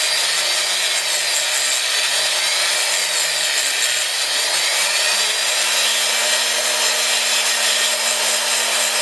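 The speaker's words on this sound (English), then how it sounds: "Using burr, you're removing part of the gold." A rotary burr grinds gold in a ring's stone seat during jewelry stone setting, a continuous close, loud high whir with a faint shifting motor tone underneath.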